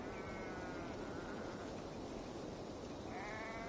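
Sheep bleats stand out twice, one near the start and one near the end, over a steady dense background hiss from a scene in the video game Assassin's Creed Valhalla.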